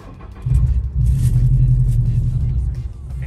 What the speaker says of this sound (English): now we're good to start the car